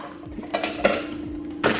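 Measuring cups and a spoon knock and clink together in a few sharp handling taps, close and fairly loud, with no talking.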